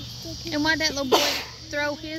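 A single sharp sneeze bursts out from a woman watching a flag football game, sitting between stretches of conversational speech nearby.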